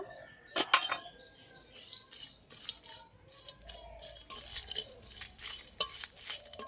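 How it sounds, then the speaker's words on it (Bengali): Dry chillies, a bay leaf, cumin and whole garam masala being dry roasted in a hot wok, with spoon scrapes and sharp metallic clinks recurring through several seconds, moderately near and with no speech. "আমি দিয়ে দিচ্ছি 4টে শুকনো লঙ্কা আর একটা তেজপাতা, জিরে আর গোটা গরম মশলা। এগুলো আমি শুকনো খোলায় ভেজে নেব।"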